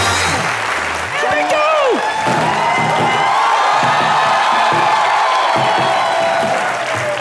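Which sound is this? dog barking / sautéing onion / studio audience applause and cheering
studio audience applause and cheering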